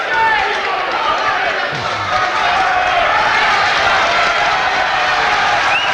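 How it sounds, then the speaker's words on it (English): A boxing crowd at a title fight between Donovan Boucher and Mickey Hughes rising to applaud both fighters, a sustained, loud wash of clapping and cheering that carries evenly throughout. "And the crowd rising to both men, and quite rightly so."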